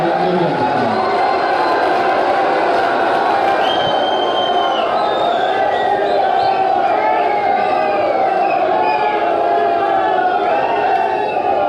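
At a statue-installation event at Guru Gorakhnath college in Yamkeshwar, Pauri Garhwal, Uttarakhand, a large crowd cheers and applauds Yogi Adityanath in a loud, unbroken wash of noise with shouts and whoops throughout.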